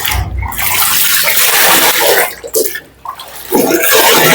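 Water sloshes and splashes loudly and close by as clothes are rinsed by hand in a bucket, with continuous watery turbulence, a brief lull near the middle, then renewed splashing.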